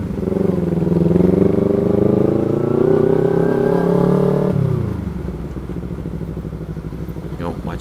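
A motorcycle fitted with a loud racing exhaust idles and revs in a heavy traffic jam, its engine droning close and loud before dropping to a lower rumble amid surrounding traffic.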